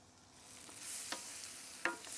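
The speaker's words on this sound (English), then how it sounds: "Let's put the onions. You know, you can saute them like this" Onions sautéing in butter and olive oil, a faint low sizzle with a couple of brief utensil clinks, close but quiet.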